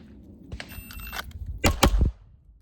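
Three handgun shots fired in a fast string during a holster draw on a range, sharp cracks bunched together near the end after some shuffling and handling noise.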